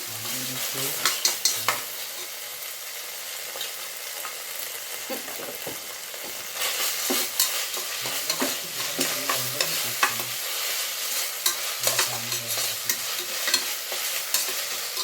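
Ginger garlic paste fries with onions in a pan, a bright sizzle broken up by repeated scraping stirs and clinks of the spoon, steady and close.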